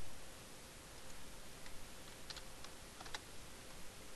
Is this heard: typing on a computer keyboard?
yes